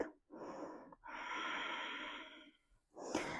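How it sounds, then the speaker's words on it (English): Slow, deep breaths during a yoga routine: a long airy inhale, then a sustained exhale, ending with another breath drawn in, close and fairly soft. "And breathe."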